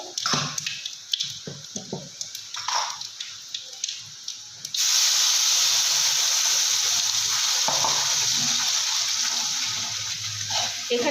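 Spice paste hits hot oil that already holds black cumin seeds, giving a sudden loud, steady sizzle that runs on after a few seconds of quieter kitchen clatter.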